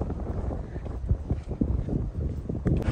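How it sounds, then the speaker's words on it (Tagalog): Strong wind at a bus stop buffets the microphone in a continuous, rumbling roar with gusty swells, loud and close, no talking. "Lakas ng hangin."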